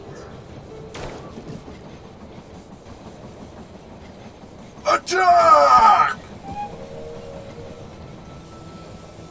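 A train in the video game They Are Billions rolls in with a short burst of rattling, clattering wagons and a squeal under steady background ambience. A voice shouts a short command earlier.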